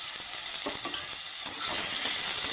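Chopped tomatoes and curry leaves frying in a pan, a quiet, continuous sizzle with a few soft stirring scrapes, no voices.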